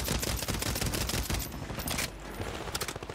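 Rapid, sustained gunfire in the video game Warzone fills the entire moment: loud overlapping shots and automatic bursts that ease slightly partway through, then pick back up, with no talking.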